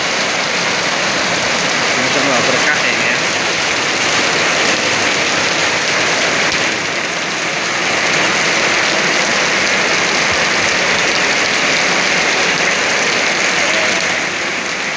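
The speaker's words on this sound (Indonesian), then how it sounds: "alhamdulillah hujannya deras sekali" Heavy afternoon rain in the tropics roars as a constant, loud, close wash with no letup. A few spoken words briefly come through the downpour.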